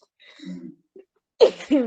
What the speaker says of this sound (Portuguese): Eu estou com uma tosse, assim, que não para.